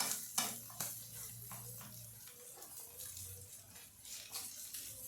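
Pork, shredded cabbage and a small Vidalia onion sizzle softly in a pan while a utensil stirs and scrapes in repeated strokes, all fairly faint and close.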